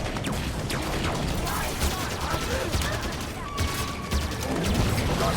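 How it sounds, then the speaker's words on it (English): Chaotic gunfire in the Halo 5 video game, with shotgun blasts among dense overlapping shots and explosions, a loud continuous barrage of combat noise with no clear gaps. "They're shooting shotguns!"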